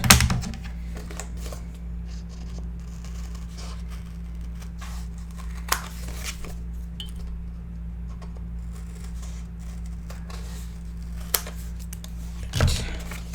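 Scoring and cutting paper by hand for a pocket in a Stamperia Lady Vagabond mini album, with scattered quiet scrapes and a few sharp snips over a steady low electrical hum and no talk.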